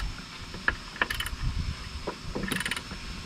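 A ratchet wrench working a 12 mm bolt on the intake of a BMW 3 Series, a few sharp metallic clicks followed by quick bursts of ratcheting, close up in a quiet garage.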